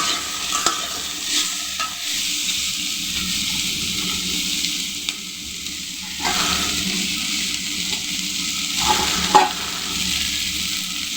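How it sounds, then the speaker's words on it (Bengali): Okra with shrimp in oil on a home stove produces a constant close sizzle. Periodic scraping stirs and light utensil knocks break it up, with no voices present. "চিংড়ি মাছ দিয়ে ঢেঁড়স ভাজি করছি"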